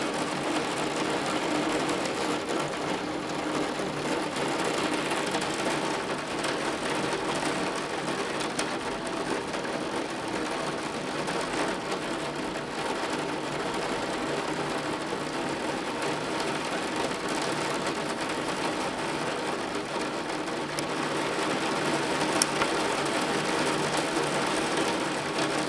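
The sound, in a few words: heavy rain pouring on a roof and gutters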